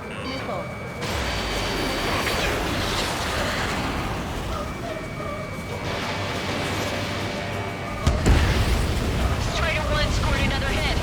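A missile strike explodes in the Ace Combat 7 air-combat game, a loud burst landing abruptly near the end over a sustained roar of jet engine and music, with radio chatter beforehand.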